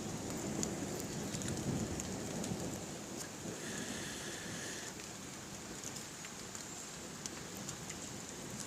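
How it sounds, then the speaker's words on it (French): A Mediterranean autumn thunderstorm over Carpentras brings steady heavy rain hissing on surfaces, with a dull rumble of thunder underneath, continuous and close, with no voices. "C'est un orage méditerranéen et un orage cévenol."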